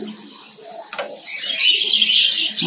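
Pet birds in a cage aviary chirp and twitter in quick, bright bursts that grow busier toward the end, with a faint low coo and a soft rustle mixed in nearby.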